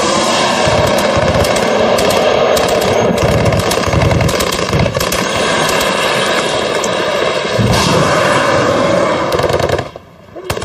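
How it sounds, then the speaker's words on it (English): Soldiers in Afghanistan fire 50 cal machine guns and Javelin missiles: loud, dense, continuous heavy gunfire with sharp cracks that roars on for about ten seconds, then drops off suddenly near the end. "Soldiers fired javelin missiles and their 50 cal machine guns."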